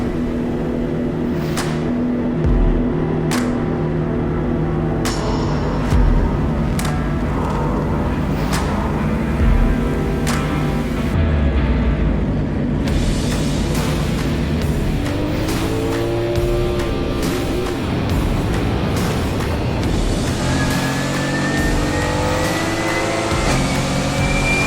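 A GT4 race car at speed on a famous circuit, its mid-pitched engine revving hard and shifting through gears with occasional tire squeal, loud and continuous throughout.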